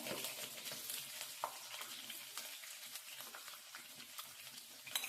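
Chana dal and green chillies frying in oil in a pan, a steady soft sizzle with occasional crackles and stirring scrapes, close and fairly quiet.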